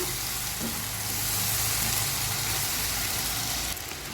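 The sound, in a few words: frying onion with ginger garlic paste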